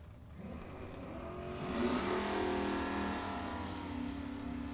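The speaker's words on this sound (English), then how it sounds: "75 Camaro, 383 under the hood" A 1975 Chevy Camaro drag car with a 383 Chevy engine revs and accelerates at a drag strip, a sustained engine roar that swells in the middle and holds, heard from a moderate distance.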